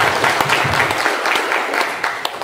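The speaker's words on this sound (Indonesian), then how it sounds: "Tepuk tangan untuk semuanya." Dense, steady applause from a crowd at a Democratic Party regional congress in Lampung, loud and close, filling the whole stretch without pause.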